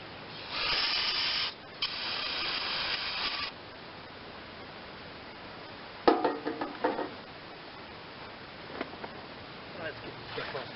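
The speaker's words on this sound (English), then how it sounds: "spray some in the intake" Two bursts of hissing carb cleaner sprayed into the intake of a John Deere 318 lawn tractor, the first about three seconds long, followed later by a few short clicks and rattles of metal parts.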